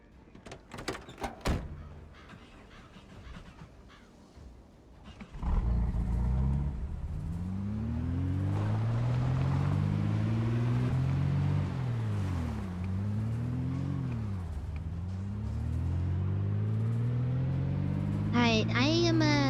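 A car starting in the video game Project Zomboid: a few sharp clunks and knocks, then an engine catching and running loudly with rising and falling pitch sweeps as it revs, with voices talking over it.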